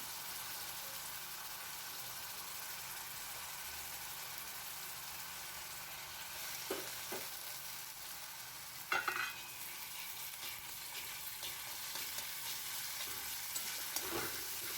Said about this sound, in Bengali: সব কিছু হালকা ভাজা হয়ে গেছে এবার ওই ভিজানো ডালটা দিয়ে দিলাম মুগ ডাল